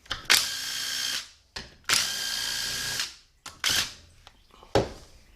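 A socket tool spins out two 10 mm bolts on a 6L80-E transmission, four short bursts of whirring ratchet noise separated by brief pauses, close and fairly loud with no talk.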